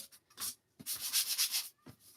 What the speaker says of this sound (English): Sanding it up a little bit.